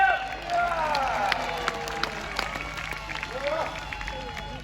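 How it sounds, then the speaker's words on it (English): A crowd at a jousting tournament at Hampton Court Palace claps and cheers for the knights, a steady spread of applause from a distance with scattered shouts and an announcer's voice over it. "Give him a cheer!"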